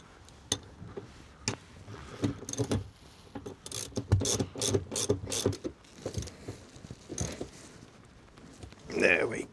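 A socket ratchet clicks on a car seatbelt anchor bolt inside a Vectra GSI interior, a run of sharp, close, repeated ratcheting strokes in uneven bursts, with a voice briefly heard toward the end.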